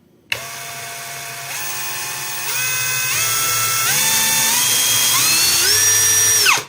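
DEVETECH CS-45 compact cordless screwdriver whirring at high speed on its second gear setting, a steady close motor whine that rises in pitch in several steps as the trigger is pressed harder, then cuts off abruptly.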